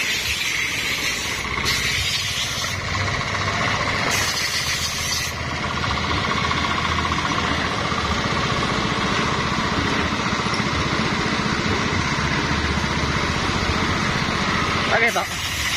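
A carbureted Honda Vario automatic scooter engine runs steadily nearby, a buzzing high-revving drone that persists for the whole stretch while someone talks over it.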